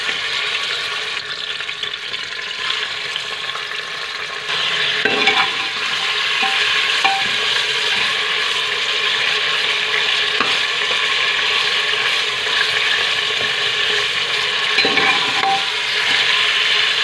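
Mutton chunks fry with cumin, cloves, black peppercorns, green cardamom and a bay leaf in a pot for Lucknow-style mutton masala, a loud steady sizzle with a few stirring knocks, without speech.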